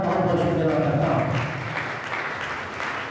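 A church congregation breaks into loud, dense applause, a continuous wash of many hands clapping that eases slightly in volume partway through.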